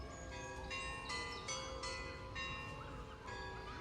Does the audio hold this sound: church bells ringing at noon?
yes